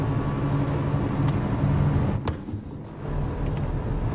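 Truck engine in the Euro Truck Simulator game drones loud and steady, briefly dipping around a sharp hiss that sounds like an air brake release before the low rumble resumes, with no talking.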